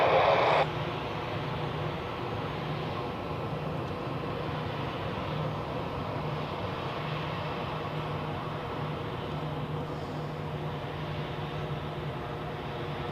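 A jet airliner rolls and climbs away on departure at Zurich Airport in the evening, a steady distant broadband roar with a low engine hum, continuous and even throughout, with no talk.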